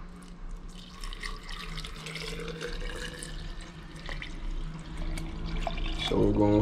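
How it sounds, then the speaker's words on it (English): Fresh coconut water is poured into a jar, making a soft trickling splash that swells toward the end, with a voice speaking over it. "I'm gonna pour some fresh coconut water in this jar"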